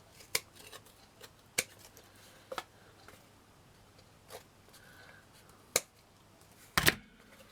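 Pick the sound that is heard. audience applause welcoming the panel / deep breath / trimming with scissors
trimming with scissors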